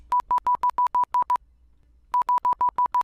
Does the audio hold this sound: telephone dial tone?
yes